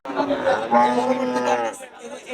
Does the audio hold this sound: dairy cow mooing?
yes